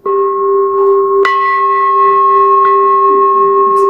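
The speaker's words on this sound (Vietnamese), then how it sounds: "Người thỉnh chuông phải đủ năng lực phát tiếng chuông đều, không nên tiếng nhỏ tiếng lớn." A Buddhist temple bell is struck once, and its deep, even tone swells into a long, steady hum that rings on alone without fading.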